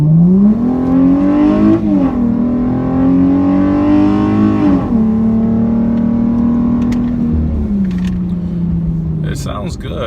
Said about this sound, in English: So we're gonna give it a little full throttle going up a hill, let you guys hear it from the inside.